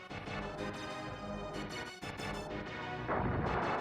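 Missile strikes pound a base in the Metal Marines video game, a dense, continuous rumble of blasts with a brief dip midway and a heavier burst near the end.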